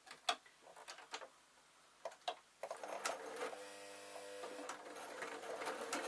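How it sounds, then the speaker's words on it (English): Sewing machine stitching around the edge of a quilt: a few soft clicks and taps, then a steady mechanical whirring run of needle strokes, fairly quiet and close. "I'm literally just going to sew round."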